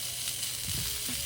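Hot dogs frying and charring in a pan for chili cheese dogs, a steady close hiss of sizzling fat with a couple of soft scraping bumps, no talking.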